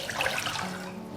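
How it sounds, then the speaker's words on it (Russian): Half a liter of water pours into a container for a pork marinade, a short splashing, rushing stream that settles as the vessel fills, heard close in a kitchen. "Для маринада я беру пол-литра воды."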